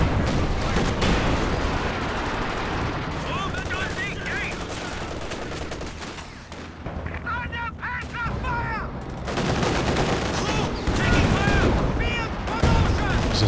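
Artillery barrage and gunfire in a Company of Heroes 2 2v2 battle between Soviet and German forces: dense, continuous booms and rattling shots, with bursts of chirping and whistling effects over the din, loud and constant throughout.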